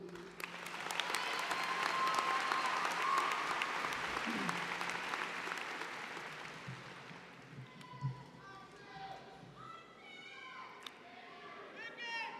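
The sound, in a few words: audience applause welcoming a speaker to the podium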